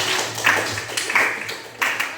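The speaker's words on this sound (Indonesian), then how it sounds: "Tepuk tangan lagi." Hands clap in a brief round of classroom applause, a few loose claps with a rhythmic pulse over about two seconds, close and moderately loud.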